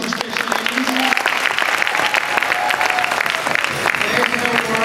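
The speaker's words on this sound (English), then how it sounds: "you both also deserve a big round of applause for these two special ladies" A closing-ceremony crowd claps for two event organisers, a loud, dense burst of applause that holds steady for several seconds, with a few voices and cheers mixed in.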